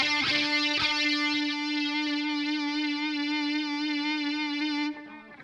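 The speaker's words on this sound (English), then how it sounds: "So I'll show you when I turn on my distortion" A distorted electric guitar holds one sustained, buzzing note for about five seconds with a slight wavering before it cuts off.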